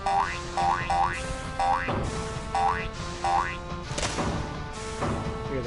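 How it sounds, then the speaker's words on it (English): Repeated video game crush effect from a platform game: short springy boing-like hits with quick rising chirps, recurring rhythmically several times, loud and close over a steady electronic backing. "Hear the crush sound."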